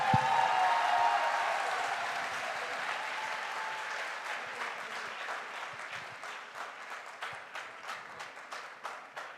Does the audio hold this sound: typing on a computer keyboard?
no